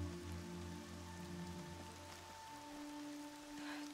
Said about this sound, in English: I love the rain effect.